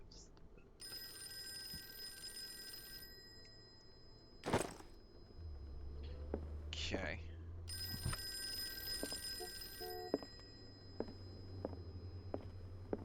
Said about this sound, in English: Why is the phone fucking going off?